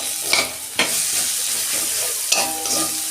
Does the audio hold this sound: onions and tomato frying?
yes